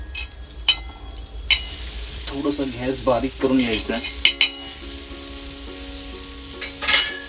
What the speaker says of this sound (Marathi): इकडे आता आपला तवा गरम झालेला आहे तर आपण इथे आता बटर टाकूया